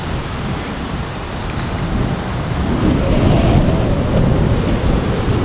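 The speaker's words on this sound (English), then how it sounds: "Gusty, gusty. You hear the gust?" Gusty wind on Sunningdale Golf Club's Old Course, a continuous broadband rush buffeting the microphone that swells louder in the second half, with no talking.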